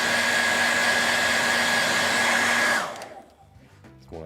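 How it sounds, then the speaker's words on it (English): A handheld hair dryer blows loudly and steadily at close range for almost three seconds, then cuts off, leaving quiet clicks and light handling noise. "Maybe maybe I'll hit him with a hairdryer a little bit first."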